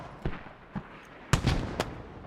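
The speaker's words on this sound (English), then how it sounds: "And there are the rockets coming in from the rocket MTLB." Rockets fired from a rocket MTLB in the video game Squad burst in a quick, irregular string of sharp blasts, some distant and some closer.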